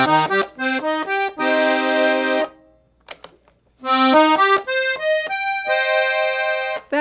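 A vintage accordion on the musette register plays short phrases of bright, reedy sustained notes and chords, close and fairly loud, broken by a brief pause partway through.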